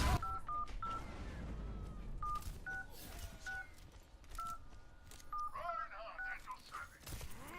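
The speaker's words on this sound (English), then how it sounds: "we are going to call this number right now" A phone dials a number in a quick run of about a dozen short beeping keypad tones, evenly spaced, over a faint background hiss and some low rumble.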